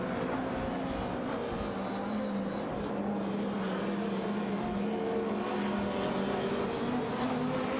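A Jaguar F-Type Project 7 and a Chevrolet Corvette Stingray race in a video game, engines whining and droning at high revs in a continuous mid-distance blur of motor noise.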